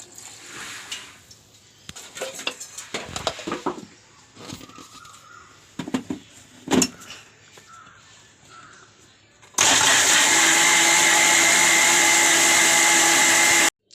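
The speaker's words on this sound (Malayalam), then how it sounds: "മല്ലിപ്പൊടി ഒന്നര ടീസ്പൂണ് മഞ്ഞൾ ഒരു അര ടീസ്പൂണ് പെരിഞ്ജീരകം കാൽ ടീസ്പൂണ് ഇതെല്ലാം കൂട്ടി അരയ്ക്കാം" After some light clattering, a kitchen mixer grinder grinding coriander powder, turmeric and fennel seeds kicks on with a loud, steady high-pitched whir for about four seconds, then cuts off abruptly.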